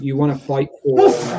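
One sharp, close sneeze bursts out right after someone speaks, a loud noisy blast that cuts across the conversation.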